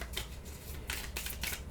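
Tarot cards being shuffled by hand in a quiet room, with bursts of crisp riffling and flicking at close range separated by softer shuffling between them.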